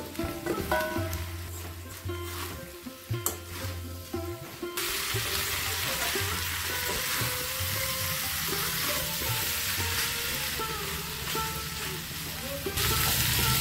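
Mutton keema sizzles in a pan as chopped tomatoes and diced potatoes go in. The frying gets louder and steadier partway through, with stirring scrapes over a continuous close hiss.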